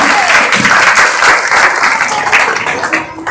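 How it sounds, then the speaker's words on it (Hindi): A crowd at a Ambedkar Jayanti gathering in Kailash Nagar, Ghaziabad, claps loudly for Jyotiba Phule, a dense steady wash of applause throughout. "राष्ट्रपिता ज्योतिबा फूले के लिए एक बार जोरदार तालियां"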